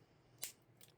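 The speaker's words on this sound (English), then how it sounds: "Snip that off." Sharp scissors make two quick, faint snips, cutting through a cured resin jewelry piece in a quiet room.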